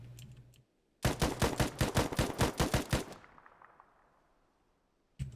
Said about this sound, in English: Rifle fire coming down on the Russian squad members.